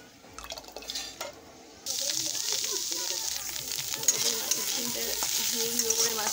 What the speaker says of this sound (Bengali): তো এখন আমি ভাজবো মাছের ডিমটা, তার জন্য আগে পেঁয়াজ দিয়ে দিয়েছি।